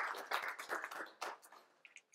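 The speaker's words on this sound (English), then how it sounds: "A big round of applause for Martina." An audience at a business breakfast event applauds a presenter with a dense burst of clapping that rises and falls for about two seconds, then thins out to a few scattered claps.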